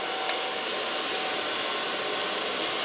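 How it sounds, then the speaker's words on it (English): A Kiona hair blower running on its volume setting gives a constant loud airy whoosh that stays even throughout, up close and with no talk. "Put my Kiona hair blower on volume."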